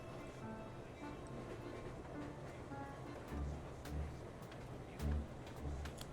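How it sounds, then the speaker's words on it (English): Low, faint rumble of a train at a station in the video game Irony Curtain, a steady ambient drone with a few soft, heavy thumps, no voices. "I'm at the train station and my train's leaving."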